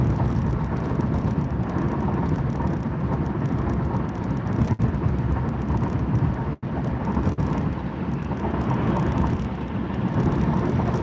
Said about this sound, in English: I feel like I'm hearing something wrong with my car, and I think it's just the road.